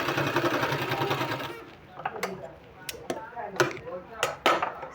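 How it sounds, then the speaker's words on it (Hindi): A sewing machine stitches two-colour fabric, first a steady fast whirring run, then stopping into a series of separate sharp clunks and short bursts, close and clear, with a voice talking faintly over it. "इसको हमको इस तरह से सिलाई कर देना है।"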